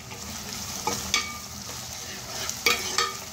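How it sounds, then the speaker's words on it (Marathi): Tomatoes with salt frying in a pan over a high flame, a continuous sizzle broken by a few sharp scrapes of a spoon stirring, close up with no speech. "आता आपल्याला हे मोठ्या फ्लेमवरती व्यवस्थित टोमॅटो पूर्ण शिजेपर्यंत मिक्स करायचं आहे।"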